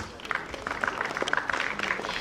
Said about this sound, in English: Everybody, please give them a huge round of applause.